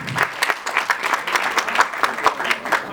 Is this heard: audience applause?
yes